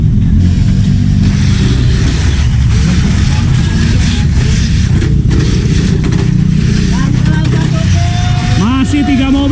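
Tamiya mini 4WD toy cars racing on a side damper class track at a dojo battle in Porsea, a loud constant whirring motor buzz throughout, with crowd noise and rising whines near the end.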